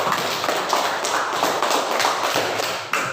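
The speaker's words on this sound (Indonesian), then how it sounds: "Kita berikan aplaus untuk semua kelompok." Classroom applause for all the student groups in a teaching lesson, a dense steady patter of many hands clapping together at close range, holding at an even level for about three seconds with no talk over it.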